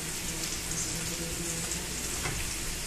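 Chiles roasting on a small griddle, a continuous dense sizzle and crackle close up, steady in loudness throughout with a faint low hum beneath and no voices.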